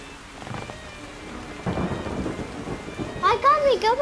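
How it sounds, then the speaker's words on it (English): Rain patters steadily with soft rumbles of thunder in the video game Yonder, while chirping, warbling bird-like calls rise up near the end. "It's storm, so we have to be careful."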